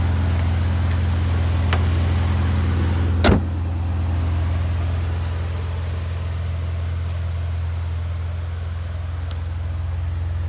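A 2018 Maserati Levante S with a 3-liter V6 and all-wheel drive idles nearby with its exhaust in sport mode, giving a steady low rumble throughout. A single short click or clunk cuts in briefly partway through.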